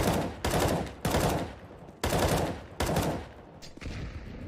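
Loud gunfire in CS:GO as a player shoots at an enemy, with several sharp bursts of rapid shots in quick succession, close and dominant, tapering into fainter shots at the end.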